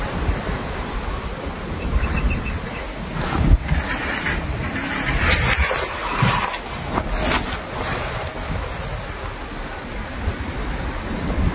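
Strong wind roars and buffets the microphone in a continuous loud rush, swelling in a few gusts over nearly twelve seconds, with no voices heard.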